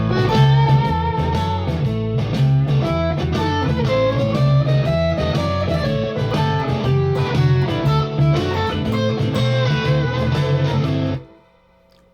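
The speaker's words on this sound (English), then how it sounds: "you add a little distortion to the same lick and it takes on a kind of a different feel" A sustained, distorted Telecaster electric guitar plays a chromatic lick in A with bending notes for about eleven seconds, then cuts off abruptly.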